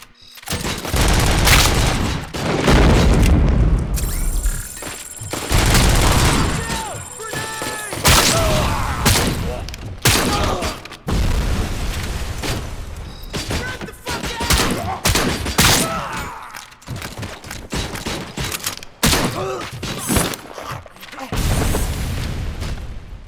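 Sustained gunfire in RoboCop: Rogue City, dense rapid bursts and heavy booms filling the scene nearly without pause, loud and close, with occasional brief shouts.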